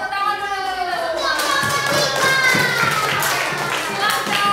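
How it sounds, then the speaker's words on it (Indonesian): Children in a classroom clap their hands together, a rough burst of overlapping claps that fills the room, with young voices chattering and calling out over it. "Tepuk tangan dulu semua."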